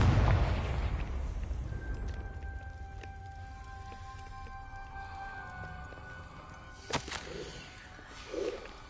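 A Confringo fire spell explodes in Hogwarts Legacy, a heavy boom at the start that decays into a long, fading rumble with lingering tonal rings, followed later by a few smaller sharp impacts.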